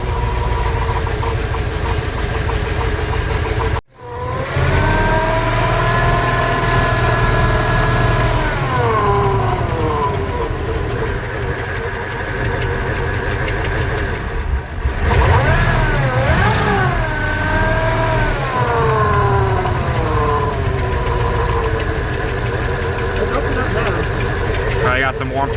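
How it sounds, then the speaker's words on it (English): A 1996 Jeep Grand Cherokee engine with throttle hesitation, warming up, idles loudly and steadily, then is revved up and down in a few rising and falling sweeps, close by. "As it warms up, the throttle hesitation gets worse."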